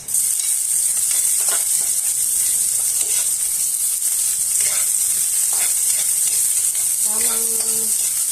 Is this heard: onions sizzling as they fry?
yes